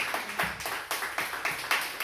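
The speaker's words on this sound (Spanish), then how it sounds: "Dale palmas a Jesús." Church congregation clapping along during a Spanish-language worship service, a rhythmic series of claps roughly every quarter second, moderately loud and close, with no talk over it.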